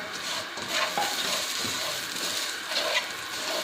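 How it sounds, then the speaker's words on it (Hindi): Dry fruits and nuts roasting in a pan, heard as a dense, steady hiss and crackle with soft stirring scrapes, close and even in level throughout without speech. "काफ़ी सारे मेवे डालेंगे ताकि भुन जाए"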